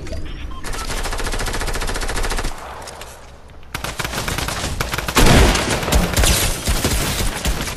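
Laser weapon fire in the video game Fortnite: rapid, continuous buzzing bursts of automatic shots, a short lull near the middle, then a renewed barrage with a heavy impact boom, loud and close with no talk.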